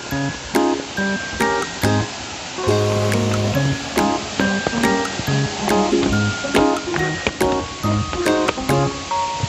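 Steady broadband rush of a low-flowing waterfall at Siyadevi in Chhattisgarh, running continuously through the clip beneath a layer of tonal music with short repeated notes.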